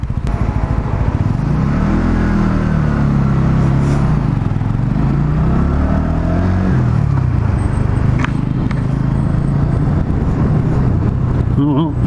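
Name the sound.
Sinnis Outlaw 125 motorcycle riding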